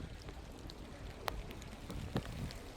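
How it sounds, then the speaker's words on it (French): Light rain patters steadily at the start of a storm in Isère, France, with a few sharper drops tapping close by, over a soft background hiss and faint wind. "il commence un peu à pleuvoir là"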